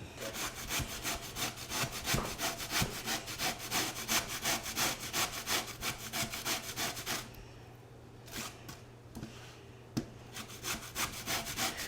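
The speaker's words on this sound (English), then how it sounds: "So if you use the finer side of your grater, it should look something like this, thin shreds." Sweet potatoes are shredded on the finer side of a hand grater in a kitchen, a fast, rhythmic rasping of repeated strokes, close and steady, with a brief pause before the grating resumes.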